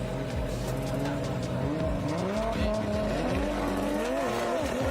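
Two drift cars rev loudly at the D1GP starting line during a night-time final battle in Malaysia, their engines wavering up and down in pitch with faint tire noise, while an announcer's voice sits low under the steady roar.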